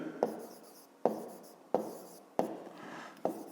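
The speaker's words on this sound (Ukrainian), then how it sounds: "Отже, записуємо." Pen writing by hand while working a fifth-grade maths exercise: five short, scratchy strokes in a steady rhythm, each a sharp tap fading into a brief scrape, close and quiet with no talk.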